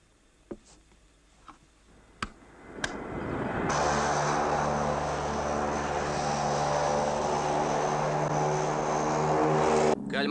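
A few sharp clicks in a quiet space give way to a propeller aircraft starting its takeoff run, its engine swelling into a loud, steady droning roar with a whining propeller tone that keeps going to the end.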